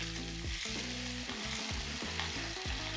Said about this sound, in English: hear the sizzling simmer of the pork